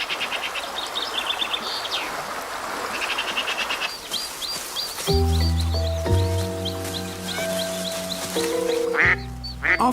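A mother duck quacks with her ducklings, repeated quacks alongside soft chirps and insect buzz outdoors, later joined by sustained low musical tones.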